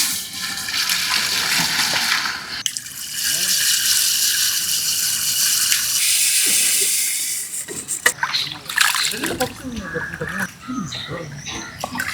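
Water pours into a pot for Mughlai chicken biryani as a steady close splash and hiss for several seconds, followed by clattering and scraping with a voice in the background.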